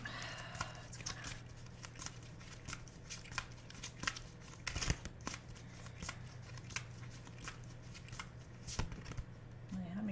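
Tarot cards being shuffled and drawn, with close crisp riffles, flicks and slaps repeating irregularly while a voice talks quietly underneath.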